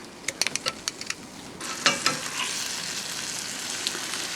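Beef shanks sear in rendered tallow; a few sharp ticks and clatters of handling come first, then a hot steady sizzle swells and holds, close by and with no talking.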